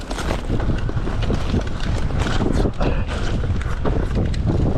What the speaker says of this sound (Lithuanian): Vėjas didžiulis.